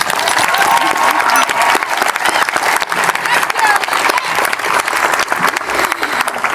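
A graduation audience applauds parents, teachers and coaches, dense sustained clapping from a large crowd filling the space, with faint cheering mixed in throughout.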